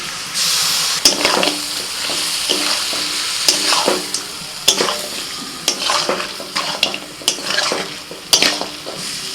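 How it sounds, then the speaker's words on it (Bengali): Mutton pieces are stirred and fried with a paste of ginger, garlic and green chili, the spoon scraping and clinking against the pot again and again over a continuous close sizzle, with no talking. "নাড়াচাড়া করে নিয়ে আদা রসুন আর কাঁচা লঙ্কা বাটাটা দিয়ে দিচ্ছি"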